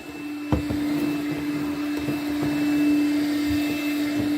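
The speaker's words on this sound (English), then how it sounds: "It's pretty good vacuum" A small Makita 18 volt cordless vacuum runs steadily with a whining motor hum, close up, with a few light clicks and rattles of debris being picked up.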